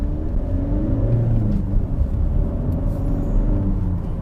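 A SEAT Ateca 1.6 TDI diesel pulls away from a red light with a steady, deep, rumbling drone heard from inside the cabin, loud and continuous with no speech.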